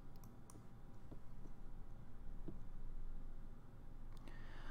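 Quiet computer mouse clicks while a course website is used: a few sparse, faint clicks over a low steady hum, with no talking.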